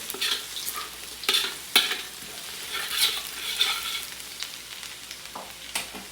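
Ginger sautéing in a pan for a Bicol Express–style pork hock dish: a steady sizzle with several sharp stirring scrapes and clacks scattered through, close and moderately loud, no talking.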